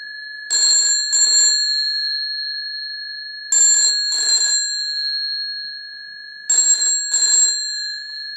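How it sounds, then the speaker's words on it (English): A World War II field telephone bell, wired as a doorbell, rings in three double bursts, each a rapid metallic trill followed by a lingering ring, spaced a few seconds apart. "that is now ringing our lovely World War II field telephones as a doorbell"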